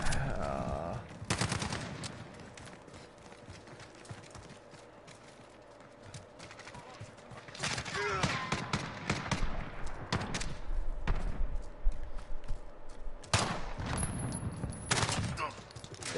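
Bursts of video game gunfire crack in short clusters at the start and again later, separated by quieter stretches of ambient game noise, with some talking heard faintly in the background.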